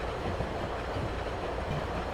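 A Chicago–Aurora commuter train in Train Simulator 2016 rumbles along steadily, a dense continuous rolling roar with faint rail clatter and no speech.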